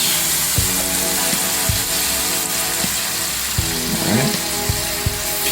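Bean sprouts drop into a hot pan for a shrimp curry stir fry, setting off a steady, close sizzle and frying hiss with a few soft thumps and stirring clatters throughout, no talk.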